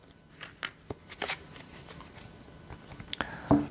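Tarot soul message cards are shuffled and handled close up, making soft papery riffles and flicks in short bursts, ending with a louder card snap.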